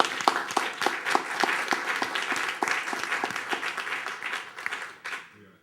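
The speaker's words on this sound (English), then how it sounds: "If you would help me celebrate them by giving them a round of applause." A crowd claps steadily for several seconds, the applause holding even before tapering off at the end.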